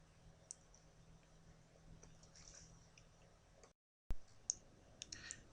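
Computer mouse double-clicking on the 3D view of Blue Sky Plan 3 dental planning software: faint, sharp clicks after a quiet stretch, set against a low steady hum.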